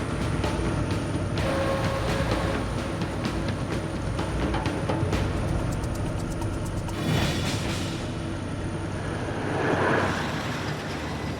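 A road train roars past up close on a rough dirt road, a steady rumbling drone with rattling and clattering building and fading over several seconds, no talking.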